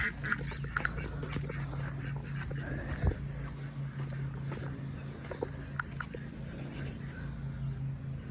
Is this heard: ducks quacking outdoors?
yes